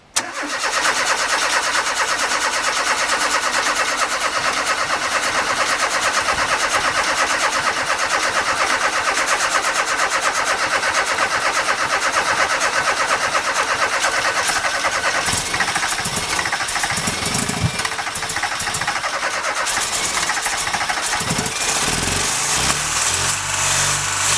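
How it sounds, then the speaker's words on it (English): A Ford Sierra engine with a refurbished carburettor cranks, catches and roars to life, then runs loudly at high revs for a long stretch, rough and continuous up close. "I just had the new carb on the car and it was running"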